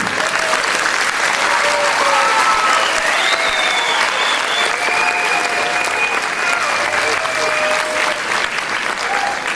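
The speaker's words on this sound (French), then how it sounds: "Tous méritent nos applaudissements." An audience gives sustained, loud applause after a director's address at a ceremony, a dense continuous clapping with a few whoops rising above it.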